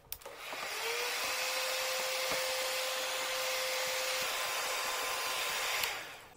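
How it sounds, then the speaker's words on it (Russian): A heat gun switches on and blows with a steady, close whirring hiss and a faint whine, heating water, running for several seconds before cutting off. "Сейчас мы ее разогреем при помощи строительного фена."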